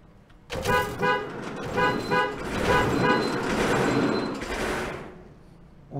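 A loud, blaring Soviet-era truck horn in the video game Ship Graveyard Simulator 2 honks in repeated bursts and then holds a long blast, with engine and road noise underneath.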